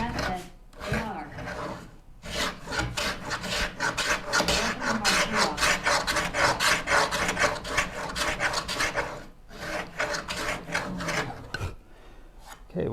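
Cross-grain dado being cut by hand in a wood cabinet part, heard as a steady run of close, rasping strokes in quick rhythm, with a couple of brief pauses and no talk.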